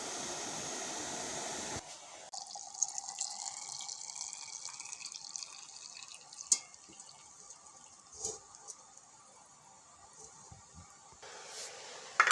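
Fifty millilitres of 9% vinegar pour into a tomato marinade in a steady, faint trickling stream that runs for about nine seconds, with a few small clinks, no talk.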